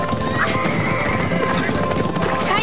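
Horses neigh and whinny at the start of a race, with galloping hoofbeats clattering steadily underneath, loud and close throughout.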